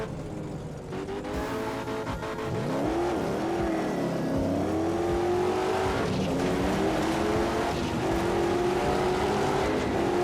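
Race cars roar past in auto racing footage, a loud continuous engine drone with rising and falling pitch sweeps and shifting revs, steady and close throughout with no talk.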